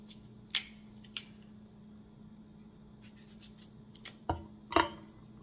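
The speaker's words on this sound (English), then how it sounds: "I'll start by cutting my fruits." A knife cuts fruit into small pieces on a board for juice, making a few sharp, sparse cutting clicks and taps at irregular intervals. A quiet steady hum sits in the background.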